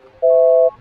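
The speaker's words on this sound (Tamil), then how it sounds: "இப்போ ஒரு ஆளுக்கு ஃபோன் பண்ணி பார்ப்போமா?" A telephone busy tone sounds once as a short steady electronic beep, clear and close, with near silence before and after it.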